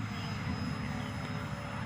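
A 64mm EDF foam jet model aircraft running on a 4S 14.8V battery in flight, giving a steady, loud, even whine and rush with no break.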